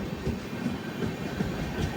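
The Kongu Superfast Express, running from Bhopal to Bengaluru, passing through Gooty Fort railway station, with a steady rumble and rhythmic wheel clatter heard from on board, no talk.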